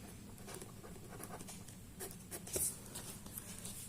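A pen writes out a geometry proof by hand on paper, giving soft continuous scratching strokes with small taps over a steady low room hum.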